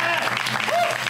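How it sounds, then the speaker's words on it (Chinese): A short burst of studio audience applause on a Taiwanese comedy talk show, dense clapping that fills about a second, with a voice speaking over it. "我们在这边也要为那个所有的选手呢掌声鼓励"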